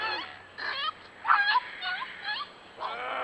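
A dog just rescued from an alligator gives a series of high, wavering whimpers and whines, five or six short cries in an uneven rhythm, moderately close over a faint low background hum.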